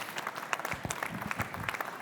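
Audience at a conference of French mayors applauding, a quiet, scattered patter of clapping heard from a distance in a large hall.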